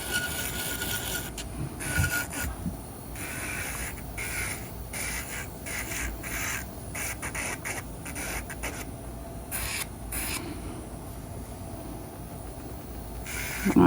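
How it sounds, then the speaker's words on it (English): A file rubs and buffs polish off a fingernail in close, quiet, scratchy strokes that repeat irregularly at a soft, even level throughout. "Let's file that off. I'm basically buffing the surface because it's too smooth and shiny."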